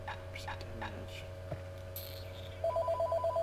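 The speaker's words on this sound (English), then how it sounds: "Oh, phone call." Telephone ringing in the Bastion video game: a faint, steady pulsing electronic ring near the end, repeating in quick even bursts over a low background hum, with brief quiet whispered sounds before it.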